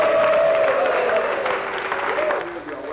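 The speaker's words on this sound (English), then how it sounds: "Give a clap offering unto them." A church congregation claps during a service, a dense spread of hand claps with a voice singing or calling out over it, easing slightly near the end.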